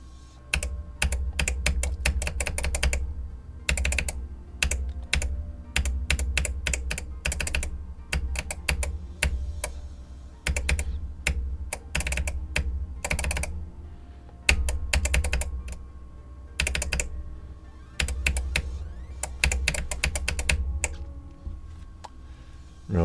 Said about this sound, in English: I have like 4 million clicks on this one key